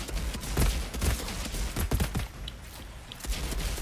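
Shotgun blasts in the Outriders endgame colosseum mode, a dense rapid series of booming shots and impacts, loud and close, with no talk over them.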